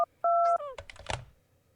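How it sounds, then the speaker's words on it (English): A phone keypad dialing 911 in the video game My Sweet! Housemate, with a few sharp tone beeps in quick succession followed by brief clicks and a short burst of noise, loud and close. "Quickly, you retrieve your phone and rapidly dial 911."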